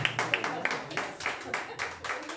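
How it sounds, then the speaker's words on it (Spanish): Guests at a birthday party with a youth mariachi band applaud, a short spell of close, uneven clapping from a small group, rising and falling in bursts. "Ese aplauso, por favor, que se escuche."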